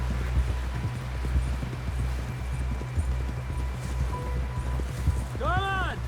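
In Red Dead Redemption 2, a horse gallops with rapid, rhythmic hoofbeats, close and steady, and a short whinny rises near the end. Voices are also present.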